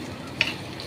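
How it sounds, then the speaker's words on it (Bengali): Bitter gourd, capsicum and chhana fry in a pan over low gas, making a soft, steady sizzle with one brief, sharp spatter partway through. "দিয়ে এবার ভালো করে ভাজবো"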